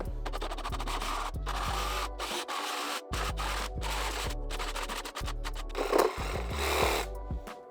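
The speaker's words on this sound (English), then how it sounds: "I have a jigsaw and I think it'll come out a little bit cleaner" A jigsaw cuts an opening in a home shop, a buzzing, rasping blade chatter in several bursts with brief stops in between, close and fairly loud.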